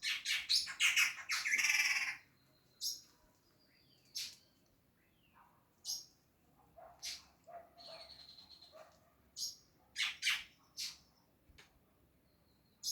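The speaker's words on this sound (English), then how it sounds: "Anybody know what kind of bird this is? He's in this tree every once in a while, and I can never see this bird." An unidentified bird calls from a tree in Guatemala, a rapid raucous squawking burst at first, then spaced, sharp harsh calls repeating at intervals against a quiet background.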